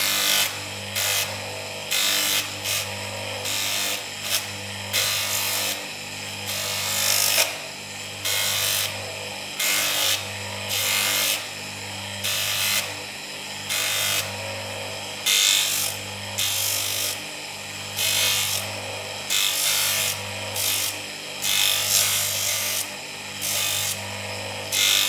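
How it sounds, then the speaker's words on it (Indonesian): Rhythmic sanding strokes of 500-grit sandpaper on a copper and brass ring, a steady back-and-forth rasp repeating about once a second, close and alone. "Kita amplas nomor 500."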